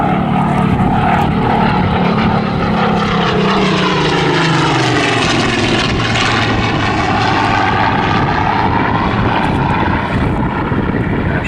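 Battle of Britain Memorial Flight Spitfire Mark 19 propeller aircraft at an evening airshow display, its loud steady engine drone filling the whole stretch with a shifting, passing tone and no talk.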